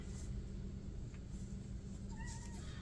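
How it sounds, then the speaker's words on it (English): A house cat meows at the door, a few high, drawn-out calls late in the moment over a steady low indoor rumble. "So yes, I hear you, kitty kitty."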